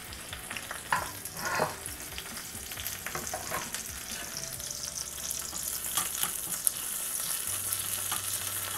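Curry leaves sizzling and crackling in a spoonful of hot coconut oil for a Tamil winter melon avial, a steady close frying hiss with a few sharper pops near the start and no talking.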